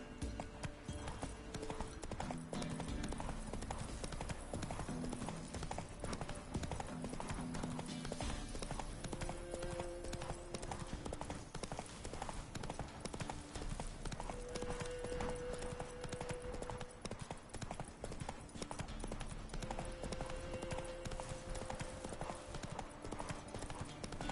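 Horse hooves trot in a steady clip-clop rhythm in the video game The Witcher III, continuous and evenly paced over ambient game music and sound.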